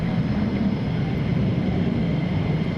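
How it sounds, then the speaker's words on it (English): F-15 fighter jets taxi at RAF Lakenheath, a steady, broad engine roar held at a constant level throughout, heard from some distance with no talk over it. "More F-15s are taxiing down."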